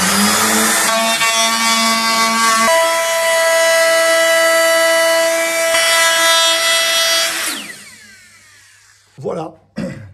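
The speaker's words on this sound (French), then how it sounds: "j'ai réalisé le tenon à la défonceuse" A wood router cutting a tenon in timber for a roof support bracket whines loudly and steadily with a sustained high tone. It runs continuously for several seconds, then spins down into near silence with a few brief knocks.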